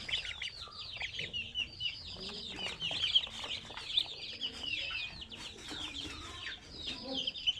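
Young desi chicks on a farm pecking at their morning feed, a dense chorus of high peeping and soft clucks close by, continuous and lively with faint background noise.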